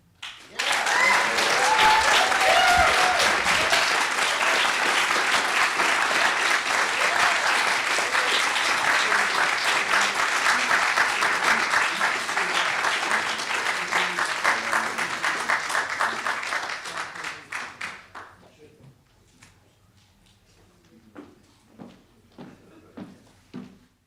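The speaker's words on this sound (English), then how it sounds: "I'd like to just give another round of applause for Kellen and Kimberly" A commencement ceremony audience breaks into loud, sustained applause from many hands for about seventeen seconds, then tapers off to scattered claps, shuffling and faint room noise.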